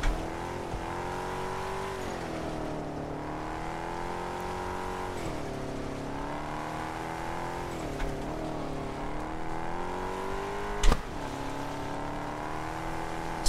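A car engine drones steadily in the Test Drive Unlimited video game, pitch rising and falling through gear changes with a brief bump near the end, continuous and upfront.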